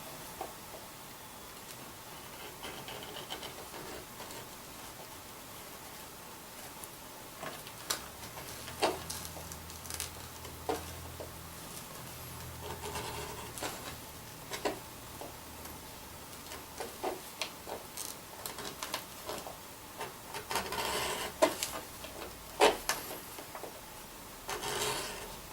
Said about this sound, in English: Have a little beveling tool here.